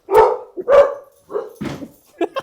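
Several dogs bark loudly and close by in a few sharp bursts with short gaps, followed by quicker, higher yips at the end.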